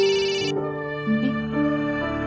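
A telephone ringing indoors, a loud electronic melodic ringtone with sustained tonal notes changing pitch, heard alone.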